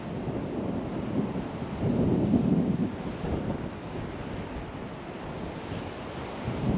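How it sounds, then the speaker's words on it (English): Strong wind blows outdoors at night around castle ruins, a steady roaring rush that swells into a louder gust midway and then eases slightly, with no voices. "The wind is getting up quite strong."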